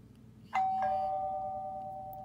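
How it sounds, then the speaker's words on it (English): A phone's text-message alert set to a doorbell tone rings once, a clear two-note ding-dong that starts sharply and then rings on, fading slowly over a quiet background. "So you hear the text message, the ringer, which sounds like this."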